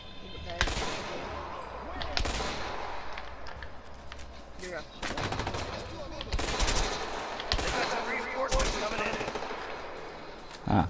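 Video game gunfire in A Way Out, loud bursts of rapid automatic shots and single cracks repeating across the scene, dense and close.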